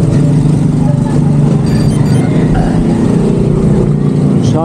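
A car rolls slowly into a small village, its engine a steady low rumble over rough cobbled streets, with the faint rattle of tires on stone and a voice talking over it.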